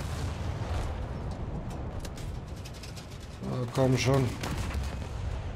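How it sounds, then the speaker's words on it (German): A US Navy cruiser such as the USS Helena or USS Pensacola fires its naval guns with AP shells in War Thunder, giving repeated heavy booms over rumbling battle ambience while someone speaks briefly. "Ich schieße gerade mit AP-Munition."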